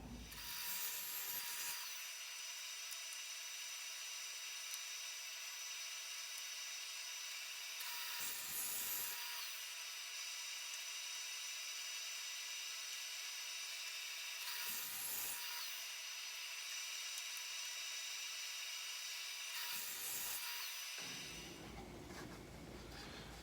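A power saw cuts the tapers off cedar outdoor end table legs held in a jig, giving four separate buzzing cuts of a few seconds each with quiet pauses between them.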